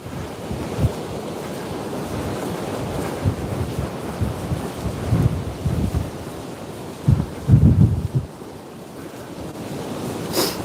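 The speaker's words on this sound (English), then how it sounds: "this wind is actually getting worse" Strong wind blows on the coast at Berwick, buffeting the microphone in rough low gusts that swell and thump irregularly, with a surf-like roar underneath and no talking.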